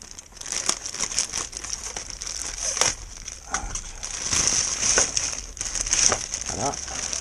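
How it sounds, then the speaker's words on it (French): Packaging of silver PLA+ 3D printer filament is unwrapped up close, a steady run of crinkling and crumpling plastic with occasional sharper tearing and rustling. "Déballer jusqu'au bout parce que lui on va l'installer direct."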